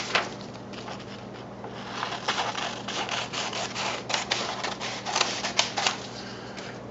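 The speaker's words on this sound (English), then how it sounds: "I'm going to cut out the beam." Scissors cut a paper beam for a STEM roller coaster project, giving a run of soft, close snipping and crinkling sounds in irregular bursts, quiet and without talk.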